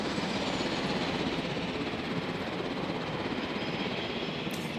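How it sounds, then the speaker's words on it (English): A helicopter in the Jurassic World Evolution game flies back from a fossil expedition, a steady, broad rotor-and-engine roar that holds at an even level with no talk. "You can hear the helicopter."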